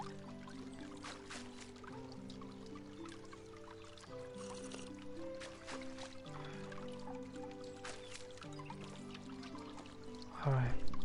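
A container fills with fresh water in the video game Medieval Dynasty, a soft trickling pour under steady background music, ending in a louder splash.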